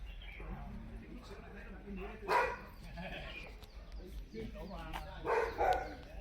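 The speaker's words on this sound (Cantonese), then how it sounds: "沿途都好多狗吠聲。" Dogs bark along a rural hiking trail near old mine tunnels and caves, with two short bursts of barking rising out of a steady background hum. Faint voices are present.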